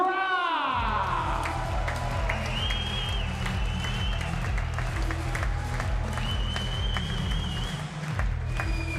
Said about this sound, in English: A massive round of applause, please, for Eileen de Graaf!